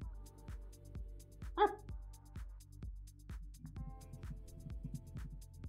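A dog gives one short bark, quiet and somewhat distant, over a low, steady, rhythmic thudding in the background.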